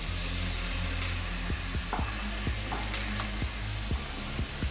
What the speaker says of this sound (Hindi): अब टोमेटो प्यूरी डाल देंगे।